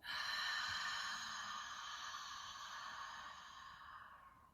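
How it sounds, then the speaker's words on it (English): Yoga breathing in a gentle beginner flow, with air pushed out through the stomach muscles: one soft, steady, breathy exhale, close but quiet, gradually fading over a few seconds with no talking. "we breathe in and out"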